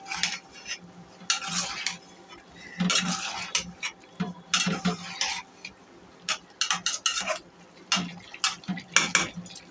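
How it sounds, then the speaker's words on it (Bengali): A spoon stirs a curry of eggplant and chicken gizzard and liver in a pot, with irregular scraping and clinking strokes against the metal over a faint sizzle and no talking. "এখন একটু নাড়া দেব।"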